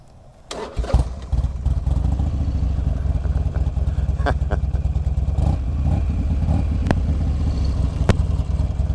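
A Buell Ulysses adventure motorcycle engine cranks and catches, then settles into a loud, steady, throbbing idle close by, with a few sharp clicks over the rumble.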